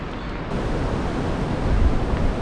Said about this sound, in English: The Storms River is aptly named, as you can see the bashing waves and the fierce water.